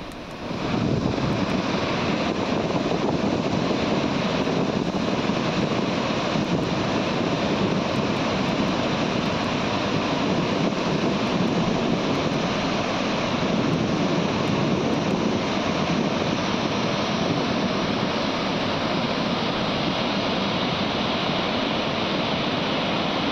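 The flooded Pochera waterfall and the swollen Godavari river after heavy rains make a loud, steady, unbroken roar of rushing water that holds constant throughout.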